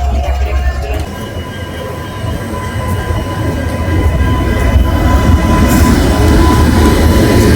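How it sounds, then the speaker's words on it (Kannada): A train pulls into a railway station with a loud, continuous, close rumble of wheels and cars that swells gradually, with faint squeal and clatter on top. "ಸೊ ಎಸ್ ನೋಡ್ತಾ ಇರ್ಬೋದು ಟ್ರೈನ್ ಬಂತು"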